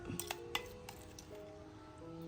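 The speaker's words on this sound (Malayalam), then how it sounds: "നല്ല ഇളക്കാം" Mango paste being stirred into spiced buttermilk in a bowl, giving faint, quick clinks of a spoon against the vessel early on, then a quiet stretch with low background hum.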